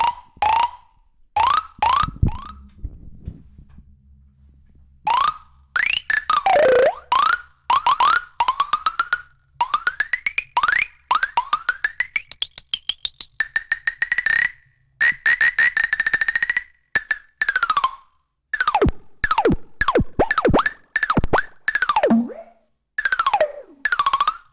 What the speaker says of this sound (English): can you now demonstrate the sproing sound?